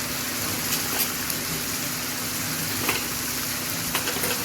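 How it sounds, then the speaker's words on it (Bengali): Chicken sautés in a pan with salt and turmeric, giving a soft, steady sizzle with faint scraping and stirring noises throughout and no voices. "এখন আমি ভালো করে এগুলো কষাই দেবো।"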